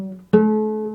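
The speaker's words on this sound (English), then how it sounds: "This is an A." Cello note played close and alone: a brief tail of the previous tone, then a firm bowed attack on an A that rings out steadily and slowly fades.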